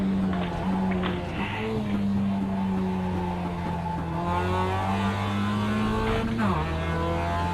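A race car engine in the iRacing sim game drones and revs steadily, its pitch rising and falling through gear changes. It plays loud and continuous, with some faint talking beneath it.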